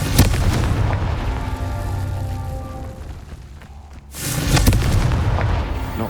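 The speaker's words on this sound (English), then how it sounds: "Confringo." A Confringo fire spell exploding in Hogwarts Legacy on PS5: a loud booming blast that rumbles and fades, then a second heavy burst a few seconds later.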